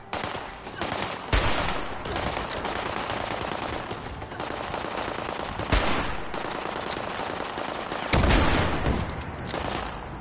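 Rapid automatic gunfire in Fallout 76 rattles out in sustained bursts, loud and close, with a few sharper louder volleys breaking through the continuous shooting.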